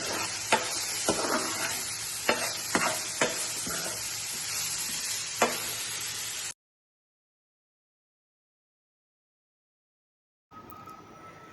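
Chopped onion sautés with coriander leaves and salt, a continuous sizzle with several sharp spatula scrapes and taps, then a sudden cut to silence and a brief return of quieter sound.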